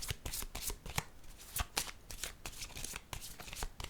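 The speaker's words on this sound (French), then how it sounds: "Je vais piger une carte ici." Card drawn from a deck: a rapid series of crisp, close card flicks and riffles in an uneven rhythm, with no talking over them.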